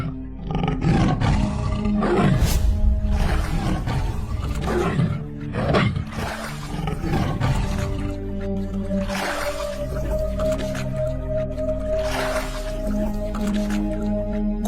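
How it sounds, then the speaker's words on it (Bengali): A tiger roars in the Sundarbans jungle: several loud, deep bursts rise and fade over a sustained low tonal drone, with no talking. "বাঘটা কিন্তু তোর দিকেই তাকিয়ে আছে সজল।"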